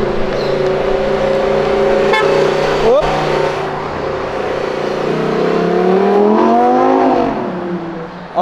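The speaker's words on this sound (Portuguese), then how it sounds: "Eu não esperava essa Huracan passando aqui" Lamborghini Huracan sports car passing by on the street, loud engine roar close to the microphone with rising and falling revs as it goes past, and a brief voice over the noise.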